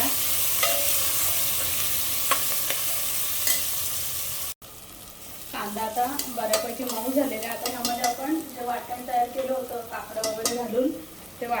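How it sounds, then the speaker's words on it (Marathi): Curry leaves and onion stir-frying in hot oil, a loud sizzle with sharp spits, then a louder bubbling crackle broken by spatula scrapes as the pan is stirred. "कढीपत्ता आणि कांदा आता हे चांगलं परतून घेऊ"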